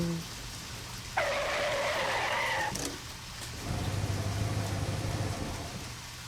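A car in the video game Deadly Premonition moves through rain, giving a steady engine hum that rises into a brief, sharp tonal squeal before settling back into wet rolling noise, with no talking.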